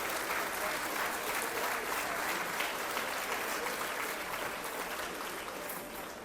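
Sustained audience applause for Environment minister Carlo Di Antonio at a cdH party breakfast during the Libramont fair, a dense, steady clapping that holds loud for about six seconds before easing slightly at the end.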